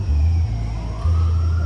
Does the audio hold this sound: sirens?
yes